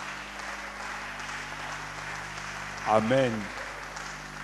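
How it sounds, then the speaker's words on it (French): Congregation applause at a church service, steady broadband clapping sustained throughout, with a single voice speaking briefly near the end over it. "Une fois de plus, de l'applaudissement pour la gloire du Seigneur."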